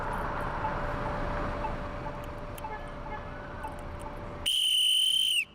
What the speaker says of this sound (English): A couple times a week, I blow my angry whistle.